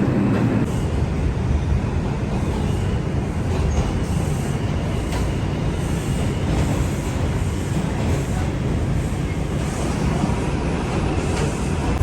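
A New York City subway train arrives at a station with a loud, continuous rumble of wheels on rail, rhythmic clickety-clack and occasional squeals, steady and close throughout.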